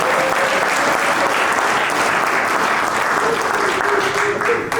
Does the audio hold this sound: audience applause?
yes